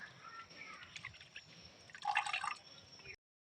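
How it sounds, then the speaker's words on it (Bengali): Chopped coriander leaves are washed in water: soft drips and trickles, then a brief, louder splash and swish near the end, close and fairly quiet. "ধনেপাতাগুলো ভালো করে জলে ধুয়ে নিয়েছি"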